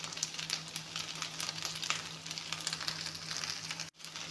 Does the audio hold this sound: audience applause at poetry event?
no